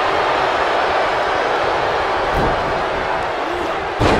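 A packed wrestling arena crowd roars steadily in the WWE 2K19 video game, a dense continuous wash of cheering with a sharp slam near the end.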